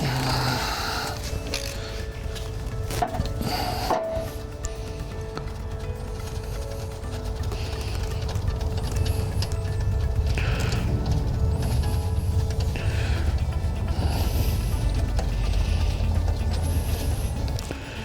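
Close, steady mechanical clatter and scraping of a wrench working the last bolt free on a Dodge Cummins 5.9L/6.7L diesel harmonic balancer, with occasional sharp knocks and creaks.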